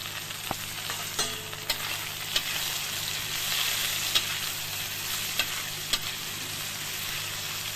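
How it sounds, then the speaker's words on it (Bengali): Eggplant slices, coated in salt and turmeric, sizzling steadily in a hot pan, a constant crackling hiss broken by a few sharp clicks of stirring, with no voices. "বেগুনটা একটু ভাজা ভাজা হোক।"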